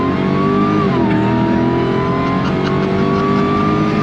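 A powerful 2022 Jeep Gladiator truck engine roars continuously at high revs, loud and close, its pitch dipping briefly then holding steady as the throttle stays open.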